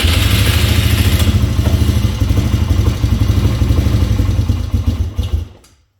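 Polaris ATV engine running loud and close with a rough, uneven idle, close mechanical clatter, then dying out and cutting to silence near the end.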